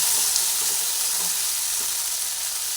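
Okra being stirred in a cooking pan, a steady close hissing sizzle with faint stirring clinks, no voices.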